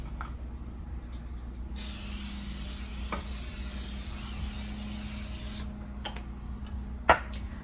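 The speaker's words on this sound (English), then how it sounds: "Have my lasagna pan here. I'm gonna quick give that a spray." A steady hiss of cooking spray on a lasagna pan for about four seconds, fairly faint against quiet room noise, followed by a small clunk.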